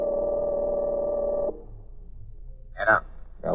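A telephone tone sounds steadily for about a second and a half on an old-time radio drama, then cuts off into a quiet line before a brief burst of voice.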